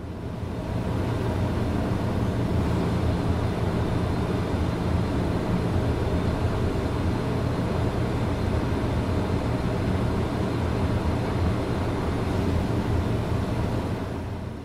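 Pilatus PC-12 turboprop climbing after takeoff in a flight simulator game, a steady loud engine drone with deep low rumble and broadband roar holding constant throughout, no voices.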